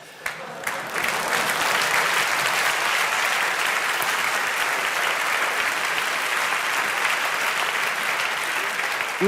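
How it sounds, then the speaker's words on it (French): Loud, dense applause from a television gala audience, steady and sustained from start to finish with a brief softer moment at the very beginning. "je vous demande d'applaudir avec énormément de respect Jérémy Régnier"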